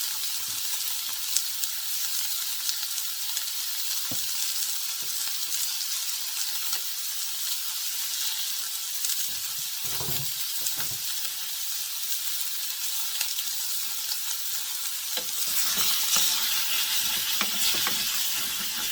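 Pork pieces sizzle in a pan for a stir fry, the meat rendering its own fat. The steady close crackle is broken by a few clattering stirs and scrapes and grows louder toward the end, with no talking.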